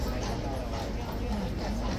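Police horses' hooves clip-clop on the ground at Horse Guards, a dense patter of hoofbeats mixed with surrounding crowd chatter and voices throughout.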